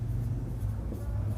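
Writing on a board during a polytechnic strength-of-materials lecture, a soft, steady scratching of strokes close by over a low room hum.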